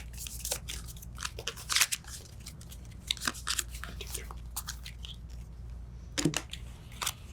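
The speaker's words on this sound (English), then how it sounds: "It's a quick shuffle." A deck of board game cards is quickly shuffled at a table, giving rapid crisp riffling crackles and snaps in short irregular bursts, close and moderately loud.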